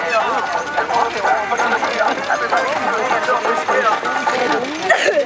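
Hooves of Belgian draft horses pulling a wagon at a 2012 agricultural show clop in a steady, busy rhythm, loud and close, with a voice speaking over them throughout.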